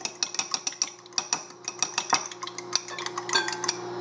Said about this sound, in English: there's my two eggs. I'm going to beat them up.